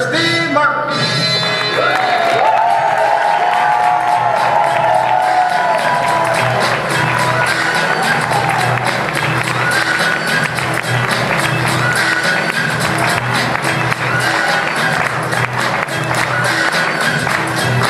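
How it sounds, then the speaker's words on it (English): Loud audience applause and cheering greet the host of the United Way of Portage County 2016 Victory Celebration, sustained clapping with music playing through it for the whole stretch. "please give a rousing applause for your host of the United Way of Portage County 2016 Victory Celebration"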